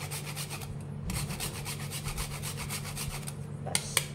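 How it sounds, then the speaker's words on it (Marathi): Nutmeg rasps against a grater in rapid, even back-and-forth strokes, close and steady, with a brief pause near the start and a couple of light taps at the end. "आता याच्यात आपल्याला थोडं जायफळ किसून घ्यायचं"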